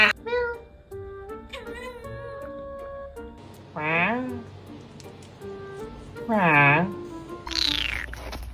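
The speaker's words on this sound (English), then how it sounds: "What is that meow?" A cat meows repeatedly at close range, giving several drawn-out, wavering cries in a cluster with short pauses between them, while a person talks over and between the calls.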